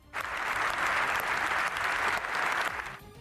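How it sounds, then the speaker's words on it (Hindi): Members of the UK parliament stand and applaud Ukrainian President Zelensky, giving a dense, sustained round of clapping that holds steady for about three seconds. "ज़ेलेंस्की के सम्मान में खड़े हुए सांसदों ने देर तक तालियां बजाई"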